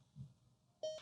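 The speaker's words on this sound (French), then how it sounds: "On a un petit bip." Short electronic beep from a HumanWare Hark Reader portable reading machine as it powers up, a single clear tone near the end after a faint low thump, alone in a quiet room.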